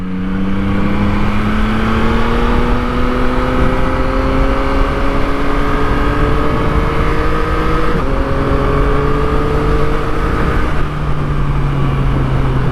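A Yamaha MT-09 motorcycle engine revs up steadily through the gears with a quick shifter, pitch climbing then dropping briefly at each quick shift, loud and continuous with no talking.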